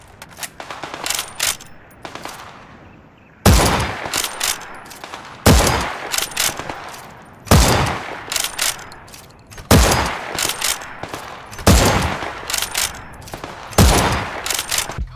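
Sniper rifle shots ring out in a VR tactical shooter game, a sharp loud crack roughly every two seconds, each followed by a short decaying tail and mechanical clicks of the bolt between shots.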